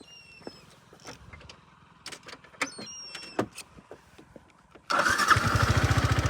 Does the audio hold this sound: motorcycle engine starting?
yes